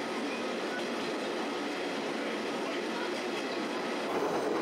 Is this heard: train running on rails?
yes